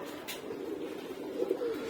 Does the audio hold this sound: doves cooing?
yes